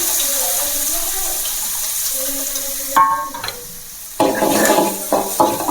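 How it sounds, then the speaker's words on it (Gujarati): Onion tempering with cumin in hot oil, broadband sizzling that flares up sharply around the three-second mark and again after four seconds, with stirring scrapes and a steady background hiss beforehand, no talking. "ડુંગળીનો વઘાર કરી નાખો"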